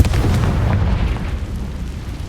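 A Confringo fire spell going off in the Hogwarts Legacy video game, a loud close boom with a rumbling low tail that fades over about two seconds, no voices.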